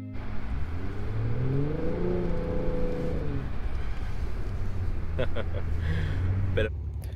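A car pulls away with a steady engine rumble, the revving rising and then holding as it moves off, while sharp clicks and knocks near the end sit over the continuous drone.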